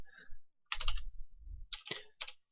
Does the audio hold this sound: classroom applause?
no